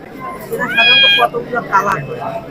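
Pet cats kept at home meow twice in close succession, one longer drawn-out cry followed by a shorter call, loud and near over faint background noise.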